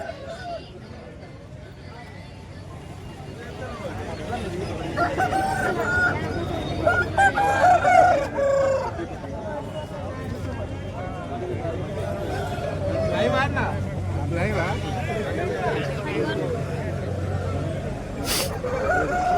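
Roosters crow and hens cluck amid the bustle of a chicken market in Bhadradri Kothagudem, with a crowd's babble and nearby voices talking throughout.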